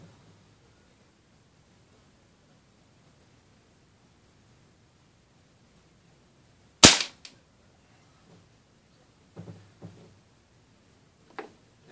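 A Benjamin Trail air rifle fires a single loud, sharp crack at close range, shooting at a target about 15 to 16 feet away. A few faint clicks and handling noises follow in an otherwise quiet setting.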